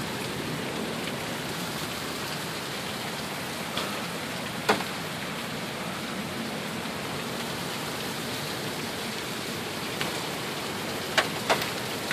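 Heavy rain pours down steadily during a June 2014 storm in Sioux Falls, a constant hiss of downpour with a few sharp drip or tap impacts scattered through it and no speech.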